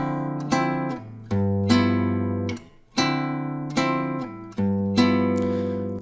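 An acoustic guitar strums a bossa nova rhythm, playing a syncopated pattern of plucked bass notes and chord hits that repeats with changes of chord, close and clear with no talking.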